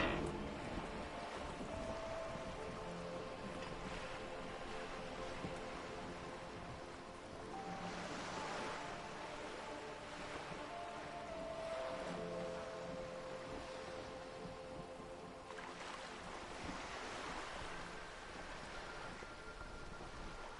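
Wind flaps a boat's sail overhead in a Disco Elysium scene, a steady rushing whoosh with periodic surges and soft fabric buffeting, ambient and continuous beneath low tonal music.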